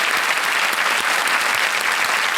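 A studio audience at a television quiz show gives dense, steady applause, loud and continuous through the whole stretch with no voices over it.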